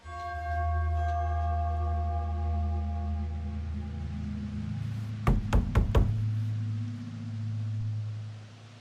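Knocking on a door in The Casting of Frank Stone video game: a quick run of about four sharp raps around the middle, loud and close over a steady low ambient hum.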